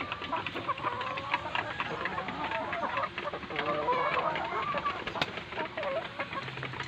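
Hens clucking just after laying eggs, with a continuous busy chorus of close and distant cackles and squawks, and some faint background noise throughout.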